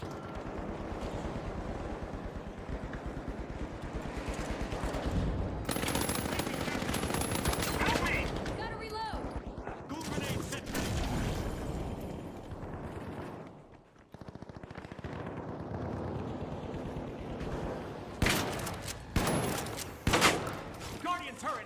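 Turret gunfire in a video game, loud and sustained bursts of automatic fire with rattling clatter, broken by a brief lull and then renewed sharp volleys toward the end.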